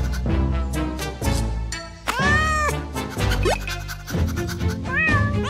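A cartoon cat meows a few times, bright and drawn-out, over bouncy background music, loud and close with no talking.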